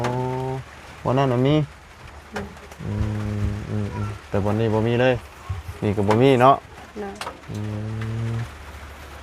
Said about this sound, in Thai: ไอ้ฝนนี่ยังบ่ได้หยุดบ่ได้หย่อน